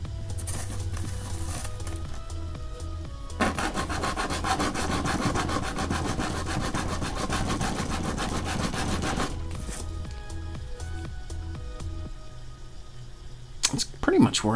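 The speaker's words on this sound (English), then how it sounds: "Cutting off the excess, much as you would cut a dome off of a like a model part." A blade cuts excess plastic off a Zoids model part. There is a close, continuous scraping rasp for several seconds, with quieter sawing strokes before and after it and a few sharp clicks at the end.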